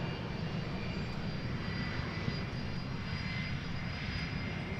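A UPS cargo jet's engines run at Boeing Field, a steady, moderately distant rumble and hiss that holds evenly throughout with no talking.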